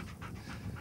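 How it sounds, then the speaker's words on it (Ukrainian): A Belgian Malinois dog pants in quick, close, breathy bursts, a short rhythmic run of rasping breaths with nothing else over it. "Він бельгійської породи Малінуа,"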